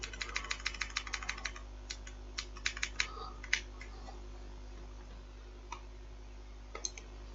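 Keys on a computer keyboard clatter in quick bursts as code is typed, with a run of rapid strokes early on, then sparser isolated taps after a pause, close and fairly quiet.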